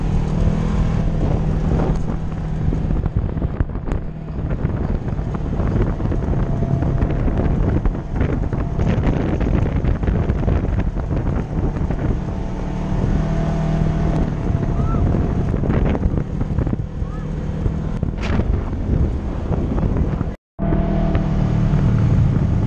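Polaris RZR dune buggy riding across red dirt near Moab, a loud continuous engine roar mixed with heavy wind buffeting on the microphone, close and sustained with one brief dropout near the end.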